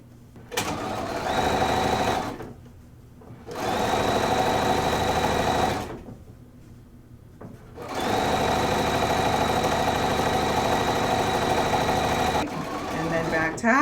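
A sewing machine stitches a quilt binding seam in three bursts with short silent pauses between, steady whirring close up.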